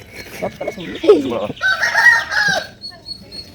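A rooster crows loudly and close by at a village resort, one full cock-a-doodle-doo call, with people talking around it.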